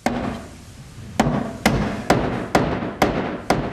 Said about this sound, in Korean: 가구 공장에서는 여전히 망치질 소리가 울려 퍼진다.